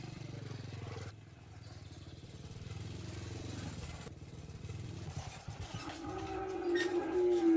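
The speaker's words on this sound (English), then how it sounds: "When her dad's motorcycle pulled back into the yard" A motorcycle engine pulls into a yard, a steady low rumble that swells louder and closer toward the end.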